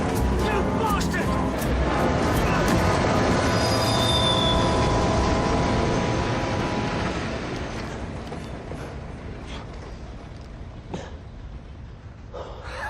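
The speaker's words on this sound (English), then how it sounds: "It's a runaway train." Loud, piercing squeal of train wheels grinding on rails, sustained for several seconds before slowly fading as the rumble continues underneath.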